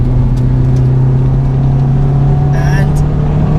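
Honda Civic Type R FD2 engine held at a steady high-rpm drone, loud and continuous from start to end, with a brief squeal toward the end.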